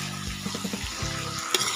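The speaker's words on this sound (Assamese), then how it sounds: "এতিয়া আলুখিনি ভালদৰে ফ্রাই হবলৈ দিব" Potatoes frying in a pan for a broiler chicken curry with banana flower, a steady close sizzle with a few soft stirring scrapes and a brief clink near the end.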